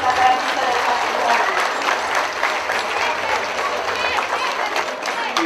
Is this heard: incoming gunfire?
no